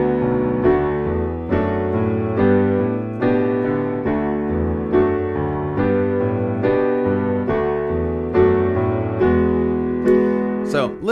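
Piano playing a song as an instrumental with an added bass line: steady rhythmic chords over a moving low bass, clear and close, alone without voices.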